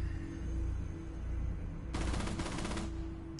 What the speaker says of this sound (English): I headshot this dude from a distance.